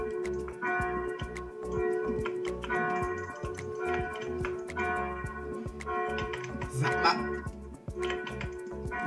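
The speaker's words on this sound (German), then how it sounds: "ich fahr gleich zu dir und schlag die Kirchenglocke zusammen" A church bell in the Minecraft video game chimes repeatedly with a steady ticking, clock-like rhythm, moderately loud and continuous, with no talk over it.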